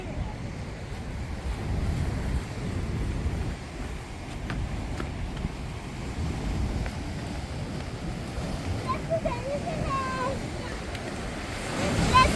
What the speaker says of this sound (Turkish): Deniz bugün çok dalgalı.